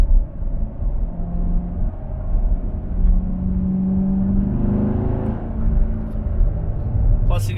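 A Chevrolet Corvette C7 Grand Sport drives along backcountry roads, its engine giving a steady low rumble from inside with a brief rev midway, as someone talks over it.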